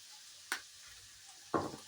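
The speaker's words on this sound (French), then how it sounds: "Maintenant je mélange le tout." A chayote (christophine) dish is stirred in a pan with herbes de Provence, two brief scraping clatters of the utensil standing out over a faint low sizzle.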